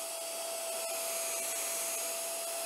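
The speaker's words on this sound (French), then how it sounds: "On va venir aspirer." Steady, even whine of a small vacuum nozzle drawing lint from the tension disc area of a sewing machine, a continuous close suction hiss with a faint tonal hum and no talking.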